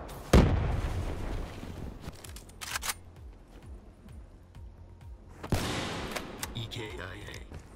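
Grenade blasts in Call of Duty: Black Ops 3 gameplay, two sharp booming detonations several seconds apart with lighter gunfire pops and game sounds between them.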